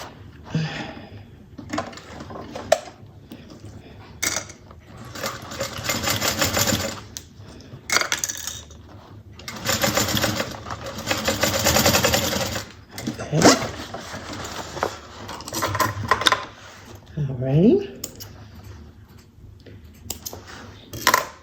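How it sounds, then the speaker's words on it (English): A sewing machine stitches the exterior seam of a fabric bag at a quarter inch, in several short rattling bursts separated by pauses, close and fairly loud. "we're going to sew this, like I said, at 1/4 inch"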